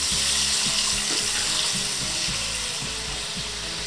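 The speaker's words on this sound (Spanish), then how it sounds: "Así que ahora ya echamos el vinagre" Vinegar hitting a hot pan just pulled off the heat, for garlic-and-paprika green beans, gives a loud, steady broadband sizzle with faint low clunks underneath, sounding close and without any voices.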